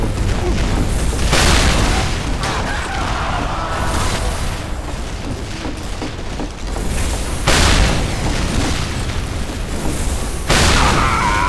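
Rocket explosions in Team Fortress 2 come as a dense, loud stretch of booming blasts and rumbling bursts layered over constant game noise, with several heavier impacts standing out.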